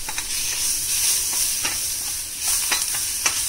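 Orange pickle with sugar and spices cooks slowly over a low flame, a steady close sizzle and hiss broken by repeated scraping stirs of a spoon through the sticky mixture.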